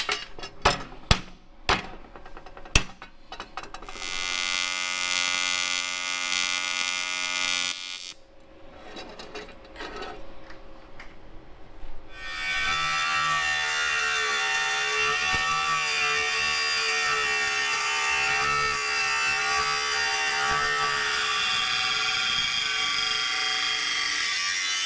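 A series of sharp metallic clanks, then a loud, sustained high-pitched grinding whine as freshly welded metal bungs are ground flat, running steadily to the end.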